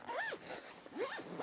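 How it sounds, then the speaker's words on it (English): A zipper on a compression packing cube for a Tortuga Travel Backpack Lite 40L is pulled in two quick, close zips, each a bright rising rasp. "zip this down, and it helps squish your gear down to give you extra space"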